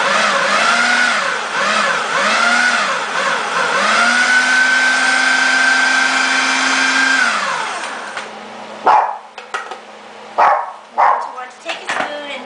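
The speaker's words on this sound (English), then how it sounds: "we're gonna get into the blender." Blender whirring through pesto, a loud steady motor whine that surges and dips for several seconds, then cuts off into short bursts of pulsing.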